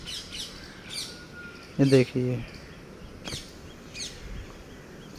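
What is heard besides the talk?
injured red-vented bulbul calling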